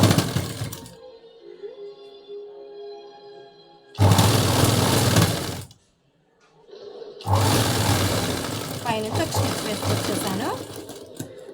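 A sewing machine stitches a folded blouse hem in two loud, close bursts of rapid whirring, separated by short pauses, with someone talking quietly between and over the runs.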